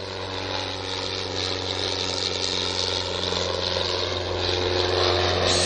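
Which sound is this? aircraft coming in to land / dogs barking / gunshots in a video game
aircraft coming in to land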